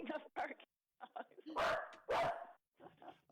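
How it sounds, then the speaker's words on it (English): A dog gives a series of sharp, close barks and yips in quick bursts, loud against a quiet background. "That dog is too loud."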